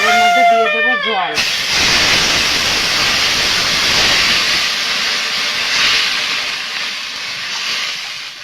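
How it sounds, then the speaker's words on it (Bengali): Water hits hot oil in a wok and erupts into a loud, close, sustained hiss of steam that slowly eases, after a brief tonal sound at the start. "ওই তেলের মধ্যে দিয়ে দেবো জল"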